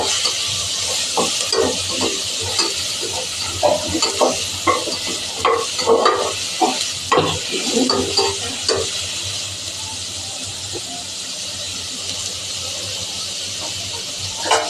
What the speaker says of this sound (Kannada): ಈರುಳ್ಳಿ ಚೆನ್ನಾಗಿ ಕೆಂಪಾಗೋವರೆಗೂ ಹುರ್ಕೋಬೇಕು.